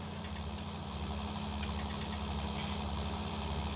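Tractor-type vehicle engine in a realistic farming simulator running at a steady idle, a low continuous rumble with faint knocking vibration and a few light clicks on top, with no talking.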